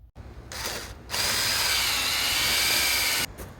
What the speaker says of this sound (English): I will be drilling 3 separate holes on both fence posts